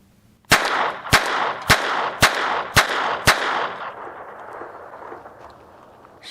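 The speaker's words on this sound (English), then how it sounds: "So let's fire 8 rounds," A pocket pistol loaded with PMC ammunition fires six loud, sharp shots at an even pace about half a second apart. Each crack echoes briefly, and a fading rumble follows the last shot.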